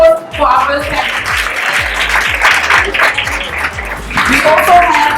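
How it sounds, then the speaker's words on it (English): A seated audience at a university panel event claps warmly and steadily for the first panel, a dense wash of many hands, with a voice briefly audible through it. "Can I give a round of applause for our first panel?"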